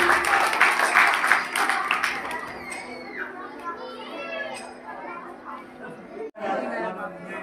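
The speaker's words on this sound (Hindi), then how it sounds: "इनके लिए जोरदार तालियां।" Clapping from a village audience at a Women's Day program and play in Bilaspur, dense in the first seconds and then thinning, mixed with steady crowd chatter and children's voices.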